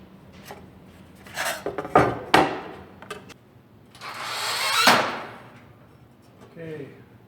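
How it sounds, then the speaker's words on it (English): An aluminum soffit panel is handled and bent on a sheet metal brake, giving close metallic scrapes, sharp clanks and a long rising rasping sweep, with quieter pauses between the bursts. "take it over to the brake and bend it up in this direction"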